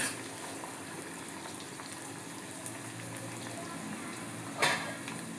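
Cabbage and mixed vegetables for vegetable upma cook quietly in a pan, a soft steady sizzle with light stirring, one brief louder scrape of the spatula near the end.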